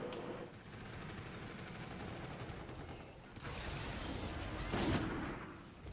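Rapid bursts of gunfire from a first-person shooter video game, including a Longbow-type rifle, crackling amid game noise at moderate level, with a sharp louder shot near the end.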